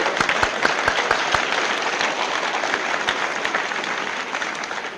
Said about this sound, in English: let's give him a round of applause as he comes up in the chair